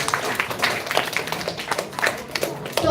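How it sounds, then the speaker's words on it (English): An audience applauding with scattered, uneven claps that are fairly close and moderately loud, with some talk mixed in. "Please give a round of applause to all of you for knowing these things."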